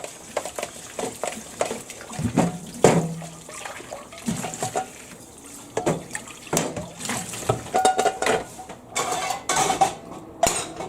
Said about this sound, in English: I got to wash the pan.